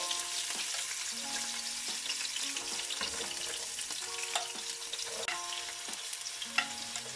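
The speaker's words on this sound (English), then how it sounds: "I'm just going to saute it for a few minutes first." Celery and onion sauté in about two tablespoons of vegetable oil in a pan, giving a steady close sizzle with scattered crackles and stirring scrapes throughout, with no talking.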